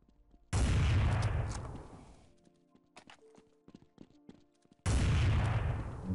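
Two loud, close AWP sniper rifle blasts in Counter-Strike 1.6, each a sharp boom that rings out over a couple of seconds, with quiet game clicks and footsteps between the shots.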